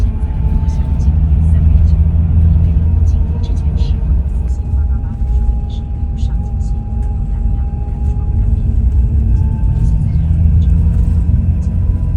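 A truck in Thai-style decoration drives past on a road in Malaysia, heard from a double-decker bus as steady loud engine rumble and road noise.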